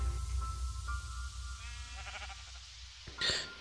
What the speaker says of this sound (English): Okay, I sheared the sheep for some wool and they're all naked now